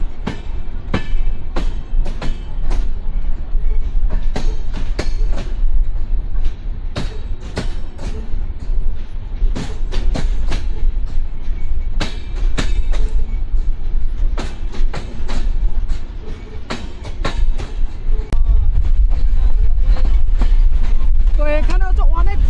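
Drutojan Express passenger train travelling from Dinajpur toward Dhaka runs with a loud steady rumble and repeated clickety-clack of wheels over rail joints, heard close from on board, with voices talking underneath.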